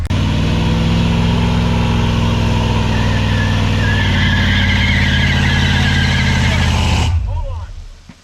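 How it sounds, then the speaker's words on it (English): A shop truck being built into a food truck revs its engine hard for a burnout, a loud, sustained roar with tire squeal rising midway, then cutting off abruptly near the end. "We gotta do a burnout for the crowd."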